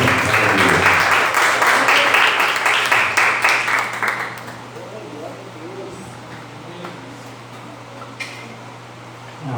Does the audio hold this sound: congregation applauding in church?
yes